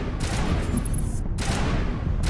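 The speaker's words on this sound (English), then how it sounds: "See who's shooting at me here." Sustained gunfire from a Mass Effect battle, a dense continuous rattle of shots with brief gaps, loud and close throughout with no talk over it.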